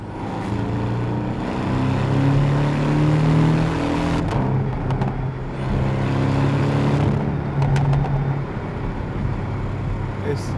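A Porsche 718 GTS turbocharged 2.5-litre engine drones and revs up and down in a steady rumble, heard from inside the car with road noise underneath and a voice talking at times.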